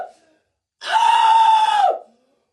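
A man lets out one long, loud, sustained scream of anger and anguish, lasting about a second, in reaction to the 2024 election results.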